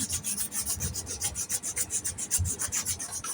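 Hand sanding an epoxy handle with abrasive paper, a steady run of rapid, rhythmic rasping strokes close by, roughly three or four per second, with no voices.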